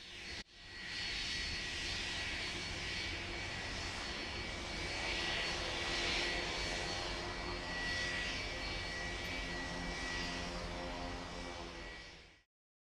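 A steady, loud drone from an airplane engine in flight, holding at an even level before it cuts off abruptly near the end, with no voices.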